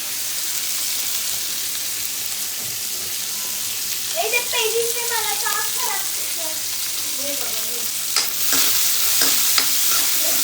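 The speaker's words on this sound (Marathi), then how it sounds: "मी बोंबील पहिल्यांदा फ्राय करून घेते तेलामध्ये" Dried bombil (Bombay duck) fish fries in oil with a constant loud hiss and sizzle. A voice talks briefly in the middle, and sharp clatters of stirring come near the end.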